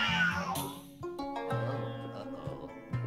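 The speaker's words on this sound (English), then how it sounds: "It's a fucking cat." A cartoonish cat yowls in the video game Luigi's Mansion 3, sliding meows set over a tonal game music backdrop with plucked notes, loud and close.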